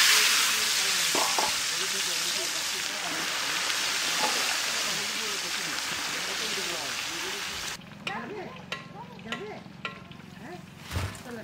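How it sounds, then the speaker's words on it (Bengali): An egg rubbed with turmeric and salt fries in hot oil, giving a loud, dense crackling sizzle that runs on for several seconds, then quiets into a softer hiss with a few clinks of a utensil against the pan. "ডিমটা ভেজে নেব।"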